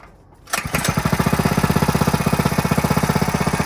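A GoPowerSports Maverick 98 mini bike engine, built from a kit, starts after a brief quiet moment and then runs at a steady idle close by, its rapid even chugging loud and continuous with no talk.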